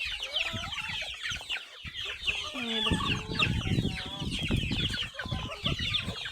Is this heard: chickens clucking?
yes